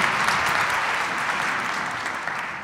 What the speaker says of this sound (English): give Mark a hand of applause as well.